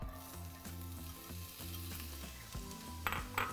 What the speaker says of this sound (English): now we're going to saute for 3 minutes